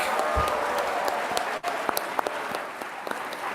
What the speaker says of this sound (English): Let's give another round of applause for Francisco, the Peace Poets, and especially Monique.